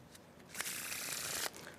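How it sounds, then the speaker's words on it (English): Deck of playing cards being riffle shuffled by a magician, one crisp rapid flutter of cards lasting about a second, close and quiet, with soft handling sounds before and after. "This will create shuffle 2."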